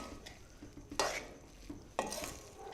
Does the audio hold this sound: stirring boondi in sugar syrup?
yes